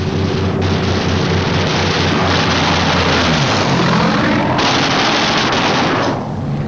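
Roaring aircraft engines of Japanese fighters diving head-on at B-29 bomber formations, a loud continuous drone with rattling gunfire bursts mixed in, heavy and unbroken throughout.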